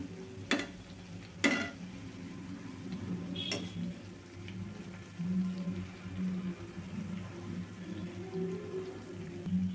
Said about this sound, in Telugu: రెండు వైపులు కూడా మంచిగా గోల్డెన్ బ్రౌన్ కలర్ వచ్చేదాకా అయితే వేయించుకోవాలండి